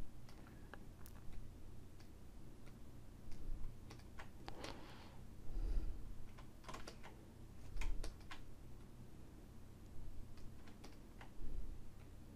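Computer keyboard clicking while someone works on a 3D character model, with scattered keystrokes and short bursts of typing at a moderate distance in a quiet room, and no talking.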